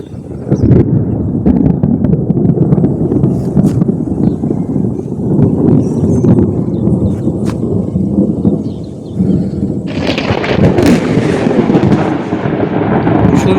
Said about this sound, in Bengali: তো প্রচুর পরিমাণে মেঘ ডাকছে।